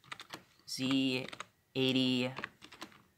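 Clustered clicks from a computer keyboard, typing commands at a desktop, come close between two stretches of someone speaking over them.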